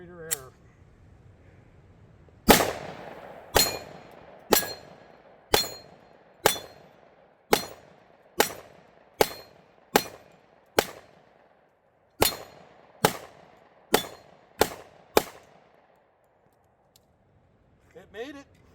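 A Smith & Wesson M&P 10mm pistol, the 4-inch model, fires a full magazine of about sixteen loud, sharp shots in a steady rhythm with one brief pause partway through, followed by quiet and faint rustling.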